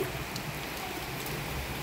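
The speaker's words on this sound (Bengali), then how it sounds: "আজকে প্রশান্তির বৃষ্টি নেমেছে।" Steady rain falls on a hot day, a soft, even hiss with light patter throughout, fairly quiet and with no voices.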